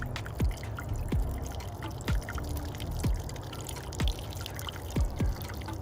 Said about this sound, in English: So the water is going to go in.